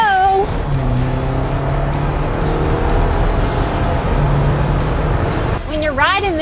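A turbocharged 2019 Jeep Wrangler Unlimited Rubicon accelerating, its engine note climbing steadily through gears as a loud, close drone inside the cabin, with a voice exclaiming at the start and end.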